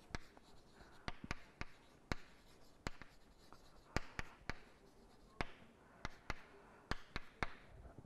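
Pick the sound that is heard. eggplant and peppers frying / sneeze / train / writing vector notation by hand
writing vector notation by hand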